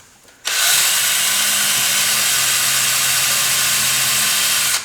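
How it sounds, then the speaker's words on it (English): A power drill bores through a small piece of board for a signal generator build, starting abruptly after a brief quiet moment and then running loud and steady, close up, with no talk. "See if that will drill properly."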